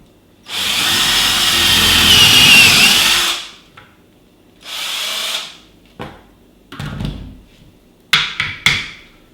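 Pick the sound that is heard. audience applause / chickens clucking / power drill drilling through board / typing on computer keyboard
power drill drilling through board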